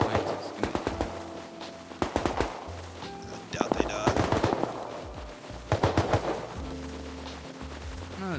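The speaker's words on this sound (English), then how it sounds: "taking a lot of shots." Video-game machine-gun and rifle fire near an arctic research base, arriving in several loud, rapid bursts separated by short pauses, with players talking over the shooting.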